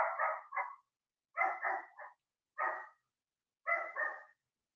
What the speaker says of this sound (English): Hold on, let me get my dog barking at the mailman.